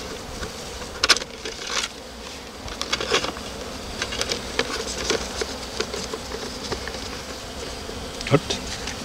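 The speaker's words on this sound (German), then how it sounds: "Die Bienen dürfen fliegen." Honey bees buzzing around a hive while mating-nuc boxes are stocked with queen cells; a continuous close hum with individual bees zipping past the microphone, plus occasional tapping and handling noises.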